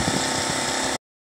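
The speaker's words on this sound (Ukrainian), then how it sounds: "Генератор." A generator runs with a steady, dense mechanical drone, close and constant, then cuts off abruptly after about a second.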